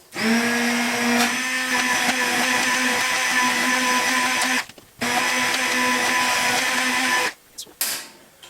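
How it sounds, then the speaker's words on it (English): Close, loud electric blender whirring steadily as it purées carrot coriander soup, cutting off briefly near the middle, then running again before stopping with a few short bursts at the end. "So keep blending until it is smooth."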